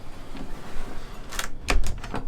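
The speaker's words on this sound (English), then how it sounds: "just close this door" A door in a basement bathroom is swung shut, a few knocks and clacks ending in a firm thud nearby, with no talking.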